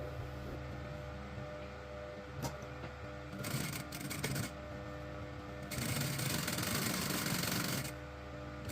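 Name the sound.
sewing machine sewing around gift bag lining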